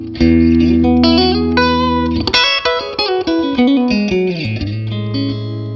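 An electric guitar on pickup position four rings out a sustained chord through a Paul Reed Smith Archon 50-watt amplifier, then a fast sequence of picked notes, full and slightly driven, with a trailing ring.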